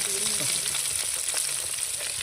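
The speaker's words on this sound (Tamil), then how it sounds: "ஏற்கனவே கொஞ்சம் அதிகமான மீன் அதை வறுக்கும் போது பாருங்கள்" Fish frying in a pan gives a steady, quiet sizzle with soft crackles and faint stirring, heard close up with no one talking.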